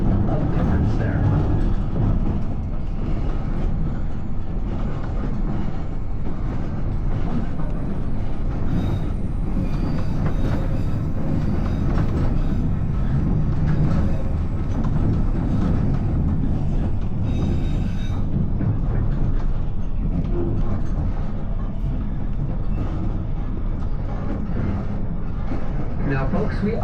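A White Pass narrow gauge excursion train rolls along its rails with a steady, dense rumble, wheel clatter and occasional squeals, while a guide speaks over it.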